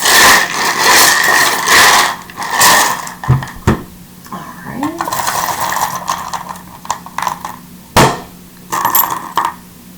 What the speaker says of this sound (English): I'm going to shuffle the charms.